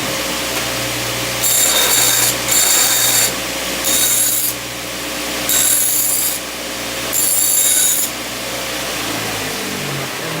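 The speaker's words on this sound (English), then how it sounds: "I just go to the belt sander here, and it literally takes 10 seconds to clean it up" A belt sander dresses and bevels the cut face of exhaust tubing, with loud rasping grinds in five or so bursts of a second or two each over a steady motor hum.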